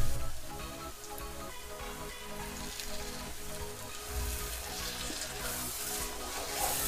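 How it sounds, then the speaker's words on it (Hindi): Tomato paste goes into spiced chicken masala frying in a pan for dry masala chicken, giving a steady, close, crackling sizzle that continues without pause. "तो अब इसमें जाएगा 2 से 3 टमाटर का पेस्ट"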